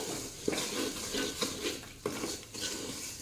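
Ground coriander, cumin and black pepper stirred into a pan on a stove, a spoon scraping and knocking against the metal in a steady rhythm with a faint sizzle underneath, close and fairly quiet.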